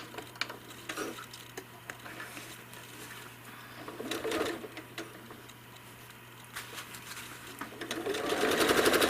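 A home sewing machine machine-quilts a patchwork quilt with a steady, close mechanical whir and rapid needle ticking. The hum runs throughout and rises louder toward the end.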